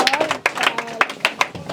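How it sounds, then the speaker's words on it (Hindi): Students clapping in a classroom after a grammar lesson answer, scattered uneven claps from a small group close by, mixed with chatter and overlapping voices. "ताली बजाइए।"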